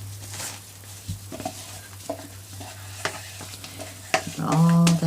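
A spatula stirs a moringa clay soap mixture in a container, producing soft scraping and sloshing strokes with a low steady hum beneath, ending with a louder tonal scrape; no one speaks.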